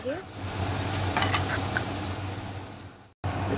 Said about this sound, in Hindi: अब हम इसको मसाले के साथ भूनेंगे जब तक कि मसाले की कच्ची स्मेल ना चली जाए और तेल नज़र ना आने लगे।